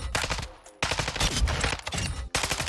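Rapid automatic rifle fire at a firing range in the Warzone video game, a long sustained burst broken by a brief pause, loud and close with dense crackling shots.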